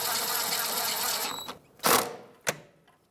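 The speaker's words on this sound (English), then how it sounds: "That's a 10mm socket. There's no torque, it's just tighten it up." A 10mm socket ratchet tightens a bolt on a bracket of a 2013-2018 Toyota RAV4 during a rear ABS sensor job, a close rapid clicking run followed by a couple of sharp isolated clicks.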